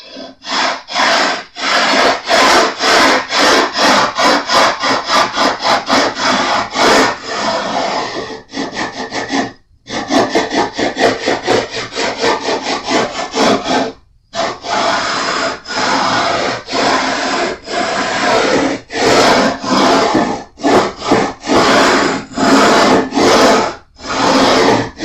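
Sandpaper rubbed back and forth across the frets of a Jazz Bass neck for leveling, loud rhythmic scraping strokes repeating steadily with two brief pauses.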